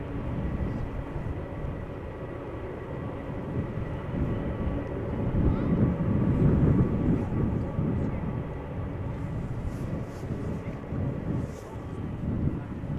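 Airliner landing in gusty crosswind at Amsterdam Schiphol Airport, a broad engine roar and rumble that swells at touchdown then eases, mixed with wind buffeting the microphone, with faint voices.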